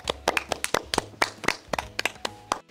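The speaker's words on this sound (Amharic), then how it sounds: "አጨብጭቡለት ብለው አጨበጨቡለት።" A group of children claps in a loose, uneven rhythm, sharp close slaps coming in quick irregular bunches for a few seconds.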